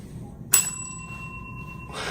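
A metal counter bell gets a single sharp strike, leaving a bright ringing tone that sustains and slowly fades for over a second before a burst of broadband noise.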